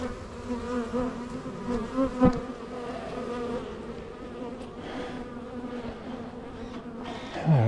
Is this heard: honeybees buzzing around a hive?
yes